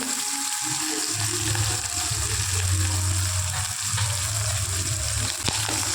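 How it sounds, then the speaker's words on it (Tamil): Onion, garlic and curry leaves frying in oil for a tomato curry give off a loud, continuous close-up sizzle, dense and steady from start to finish. "தக்காளி குழம்புக்கு தேவையானதுங்க வெங்காயம், பூண்டு, கருவேப்பிலை போட்டுருக்கிறேன்."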